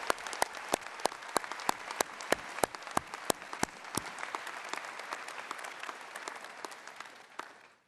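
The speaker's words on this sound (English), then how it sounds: "Let's give them a round of applause" Audience at the 2019 Berkeley Haas MBA commencement applauding: several close, sharp claps stand out over a dense wash of crowd clapping, which continues steadily and then tapers off at the end.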